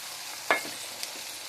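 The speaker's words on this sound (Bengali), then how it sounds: "এবার এই মশলা দিচ্ছি, জিরে, আদা, রসুন, লঙ্কা" Onion and spices (cumin, ginger, garlic, chilli) fry in a pan, with a steady sizzle and a sharp stirring scrape near the middle.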